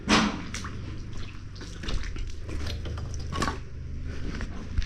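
Floodwater draining out of a room in an unfinished house, a steady low trickle and gurgle with faint splashes and drips, fairly quiet and continuous.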